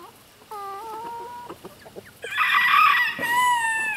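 Chickens cluck in short repeated calls while a rooster crows loudly and close, with more crowing layered on, as the birds are let out of their coop to free range.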